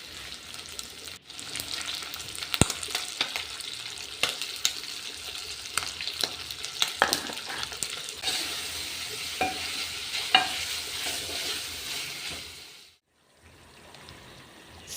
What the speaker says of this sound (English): So things are boiling nicely here, the stew